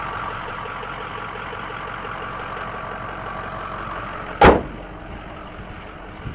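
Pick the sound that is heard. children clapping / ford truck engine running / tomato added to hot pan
ford truck engine running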